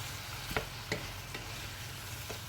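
Bulgur being stirred in a pan with chorizo, a few soft scraping strokes over a steady low sizzle, close and fairly quiet, with no talking.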